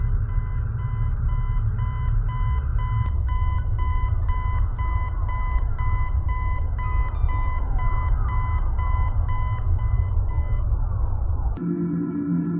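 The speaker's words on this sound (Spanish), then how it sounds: "hasta que sonó la alarma dando las 6 AM" The 6 AM alarm chime from the video game Five Nights at Freddy's 4 rings as a loud, bright electronic beeping pattern that repeats steadily for about eleven seconds, then cuts to a lower tone.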